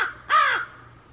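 A pet bird, crow-like, gives one loud, harsh caw that rises and falls over about a third of a second, then quiet follows.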